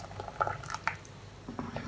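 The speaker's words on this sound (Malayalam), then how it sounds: "ഇത് നന്നായിട്ട് മിക്സ് ചെയ്ത് കൊടുക്കാം." Thick butterscotch pudding mixture with vanilla essence and melted china grass being stirred in a bowl, giving soft wet squishing and dripping sounds in short bursts, close and fairly quiet, with no talk.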